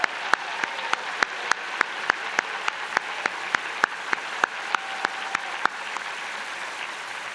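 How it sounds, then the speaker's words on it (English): A convocation crowd gives another round of applause for a graduating class, a steady wash of clapping with several loud, close individual claps standing out in a regular rhythm. "how about one more round of applause to our graduating class of 2022."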